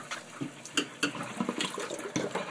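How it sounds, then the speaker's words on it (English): Cold water runs into a container holding soaked cardboard, a quiet splashing trickle with small irregular gurgles and spurts close by, no voices. "I'm going to actually put some cold water in here now."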